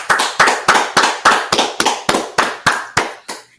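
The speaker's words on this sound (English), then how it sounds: "let's clap it up" Roughly a dozen sharp hand claps in a steady, evenly spaced rhythm, loud and close, with no talking over them.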